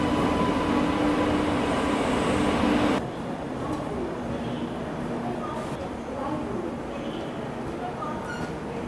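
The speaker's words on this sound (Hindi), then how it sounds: "ये अराइवल हो रहा है रीवा राजकोट" The Rewa Rajkot Express pulls into a station with a loud rail rumble that suddenly drops to a quieter hum of the platform after about three seconds.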